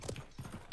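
Horse hooves clip-clop in the video game Realm Royale, a short run of soft, rhythmic hoofbeats at moderate distance, around five steps in under a second.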